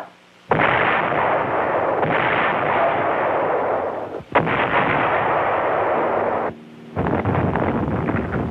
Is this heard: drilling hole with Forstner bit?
no